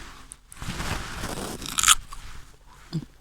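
A single crunchy bite into a very ripe, crisp fruit, a loud crisp snap followed by brief chewing, close up, with no talk.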